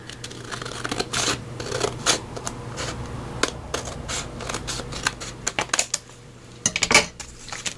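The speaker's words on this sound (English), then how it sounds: "I'm just going to grab my scissors and just cut that by hand" Scissors cutting paper by hand for a mixed-media journal tag, a busy run of sharp snips and crisp paper crackles repeating unevenly, close and fairly loud, with no voices.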